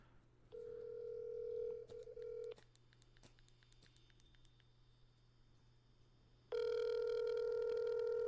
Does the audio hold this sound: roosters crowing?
no